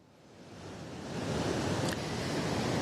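Floodwater in the province of Belluno rushes past in a continuous broadband roar that swells from moderate to loud over the first second and then holds steady, with no voices.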